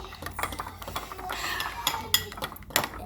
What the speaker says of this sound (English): Now we're gonna mix.